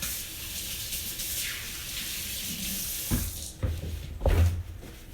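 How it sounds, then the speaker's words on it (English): Hands are washed under a running kitchen sink tap. Water rushes steadily at first, then gives way to a few separate splashes and knocks as the flow stops, close by, with no talking. "let me wash my hands."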